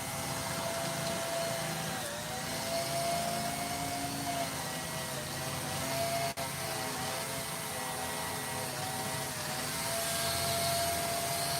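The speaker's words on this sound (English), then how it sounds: "Got my little Dremel brush." Small Dremel rotary brush whirring steadily against a pair of freshly sharpened, slightly rusty scissors at a sewing lounge, a continuous close motor whine with slight pitch dips and one brief catch, no talking.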